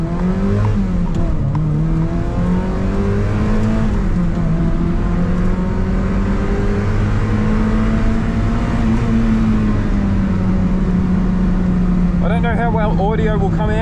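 A Mazda MX-5 Miata on track at Broadford Raceway, its engine droning loud and close from the cabin with steady revs that rise and fall through gear changes, a voice talking over it near the end.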